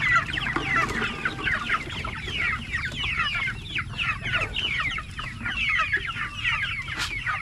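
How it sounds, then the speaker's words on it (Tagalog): A flock of chickens clucking busily while being fed outdoors, many overlapping close calls in a steady chattering stream over a low background rumble. "pakainin ko muna ang manok natin mga idol."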